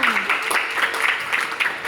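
Audience applause at an Indonesian speech competition on local wisdom: a busy patter of clapping runs throughout, with voices mixed in and talking over it.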